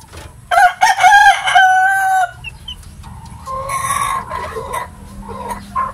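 A Gilmore gamefowl rooster crows loudly nearby, followed by hens clucking and chattering over a low background hum.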